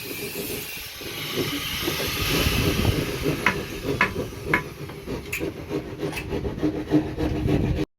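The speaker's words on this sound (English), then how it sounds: "Get out of the noise of the saw real quick." Saw cutting on a beach house building site in the Philippines, a steady rasping drone with sharp rhythmic strokes running throughout, fairly loud and close.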